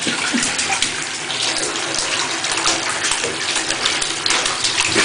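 Bathwater gushes and splashes continuously from a tap into a tub while a nervous spaniel is washed, a close, steady watery rush filling the whole stretch.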